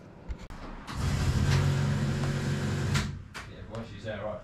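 A small car's engine cranks and starts after the key turns, running loud and steady for about two seconds before dropping off, then brief mechanical clunks follow; the car has a newly fitted exhaust.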